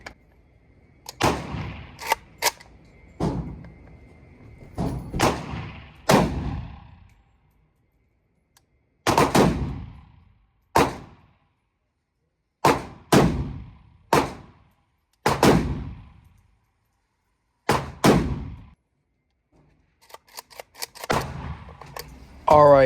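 Sharp, loud gunshots from a Micro Draco AK pistol at a shooting range, fired in irregular clusters of single and doubled reports with pauses between, close and punchy, while someone talks intermittently.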